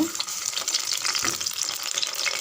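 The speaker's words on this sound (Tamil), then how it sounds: "ஃபஸ்ட்டு கத்திரிக்காவை நல்லா வதக்கி எடுத்துடலாம்" Eggplant frying in hot oil inside a pressure cooker, a loud continuous crackling sizzle with bursts of spattering from moisture, close up and without talking.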